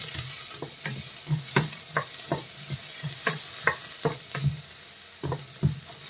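Onion sautéing in a pan with garlic, ginger and sardines under a steady low sizzle, while a spatula stirs and taps against the pan in a loose repeating rhythm, nearby and moderately loud, no speech.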